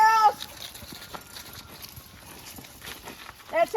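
Goats and cows on a homestead farm approaching: loud bleats open and close the clip, with scattered hoof steps and shuffling movement in between, nearby and unhurried.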